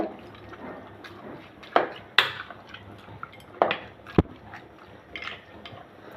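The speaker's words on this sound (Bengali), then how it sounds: "এখন দিয়ে দিব তেজপাতা, দারচিনি, এলাচ, গোলমরিচ, লবঙ্গ দিয়ে ভালো করে নেড়ে নিব" Whole spices (bay leaves, cinnamon, cardamom, black pepper, cloves) stirred in a cooking pot for a meat curry, with a few sharp metallic spoon clanks and scrapes over a low background.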